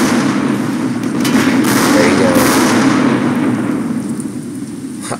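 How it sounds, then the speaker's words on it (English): Artillery and gunfire in the tank game Total Tank Simulator, a dense rumbling roar of explosions and shots with a brief louder burst partway through, continuous and loud with no clear gaps. "I love how our own artillery just almost destroyed their tank."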